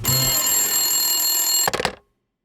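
A telephone rings in a single sustained, bright electronic tone that cuts off abruptly, leaving silence.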